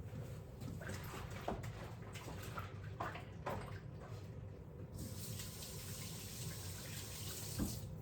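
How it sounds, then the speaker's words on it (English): A kitchen tap runs while hands are washed beneath it, a steady close splash of water with small bursts of scrubbing and a brief change in the flow partway through. "Let me wash my hands,"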